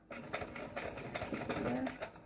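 A sewing machine stitching a pumpkin or owl pincushion, giving a short burst of rapid, fairly quiet mechanical chatter that stops within about two seconds.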